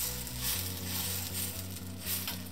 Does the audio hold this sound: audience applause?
no